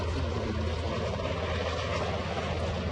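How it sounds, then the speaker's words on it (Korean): A helicopter flies over the presidential Blue House compound in Seoul, its steady rotor and engine drone filling the air continuously at moderate distance with no talk. "지금 청와대에 있는 헬기인데"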